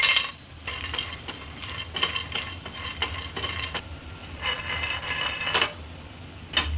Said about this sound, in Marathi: शेंगदाणे मी भाजून घेते.